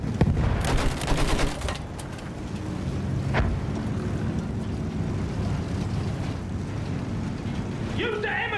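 Machine gun fire in the video game Battlefield 1: dense, rapid bursts crackle loudly for the first two seconds, then give way to a steady rumbling battlefield din with a faint distant shot.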